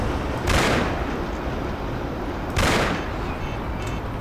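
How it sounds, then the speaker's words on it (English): Two heavy bursts of gunfire roll out about two seconds apart over a steady loud background during a shootout in the game Mafia: The City of Lost Heaven, with no talking. "Epic shootout!"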